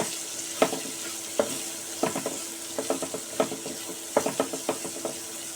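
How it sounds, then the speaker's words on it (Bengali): Two medium-sized chopped onions frying over medium heat in a pan, a soft sizzle under repeated scraping stirs from a utensil, close and irregular. "দিয়ে একটু হালকা লাল রং ধরা পর্যন্ত ভেজে নেব পেঁয়াজটা"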